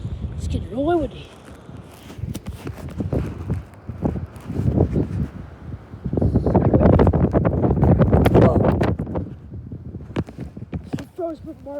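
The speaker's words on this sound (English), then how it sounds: "it's getting really windy, guys." Strong gusts of wind on a rainy day batter the microphone with heavy low rumbling that rises to a sustained roar midway, while a voice speaks briefly at the start and near the end.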